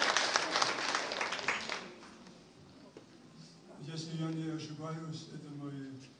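An audience applauds a guest of honour at the closing of a Russian patchwork quilting festival, with loud clapping for about two seconds that fades before a person starts speaking.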